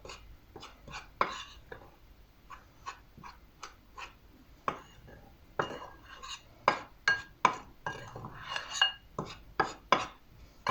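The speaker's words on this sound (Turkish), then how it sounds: "Bunları iyice birbirine karıştı" A spoon clinks and scrapes against a bowl while ingredients are mixed together, producing a steady run of sharp, close metallic taps and knocks, with no talking.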